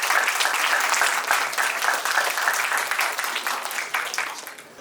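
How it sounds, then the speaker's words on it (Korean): An audience applauds to welcome a team onstage at a university presentation event, a dense, steady clapping that stays loud throughout and eases slightly toward the end. "박수로 환영해주십시오"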